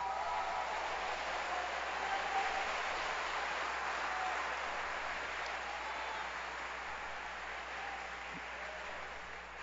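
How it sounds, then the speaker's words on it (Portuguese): Congregation applauding in a church during a Brazilian family congress sermon, a steady, dense wash of clapping that holds evenly throughout and fades slightly toward the end. "Se vai aplaudir, aplauda como crente, meu irmão."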